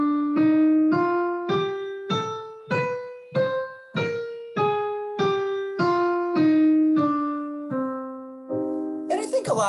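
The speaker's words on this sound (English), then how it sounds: "So the melodic minor scale sounds like this." A melodic minor scale sung by a voice, one note per beat, climbing steadily and then descending in clear, evenly spaced steps, with a brief noisy burst at the very end.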